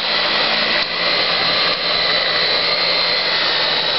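An electric mixer whirs steadily and loudly as flour is worked into Fruity Pebbles cookie dough, one continuous motor drone with only a slight dip partway through.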